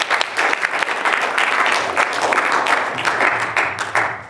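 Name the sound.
round of applause for poet David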